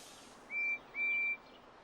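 Two clear, sustained high whistle tones from Percy, a small toy-like steam engine in a children's railway setting, the first short and the second longer, quiet and alone with no talking.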